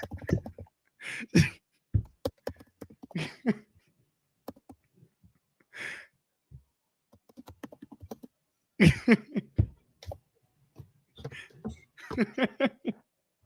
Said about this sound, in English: I'm only typing in the private chat for you to know where it is.